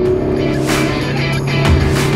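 Alfa Romeo Giulietta Veloce 1.8 TBi 16V with 240 hp and dual-clutch TCT driven on a country road, its engine humming steadily with a constant low drone and a slight swell near the end.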